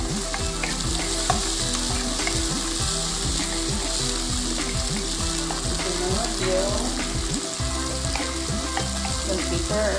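Ground beef browns in a pan for beef tacos in romaine lettuce, giving a loud, continuous sizzle with frequent scraping stirs and no speech.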